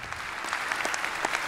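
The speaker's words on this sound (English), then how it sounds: "Before you give a round of applause," A short burst of audience applause after a Q&A session, even and moderately loud throughout.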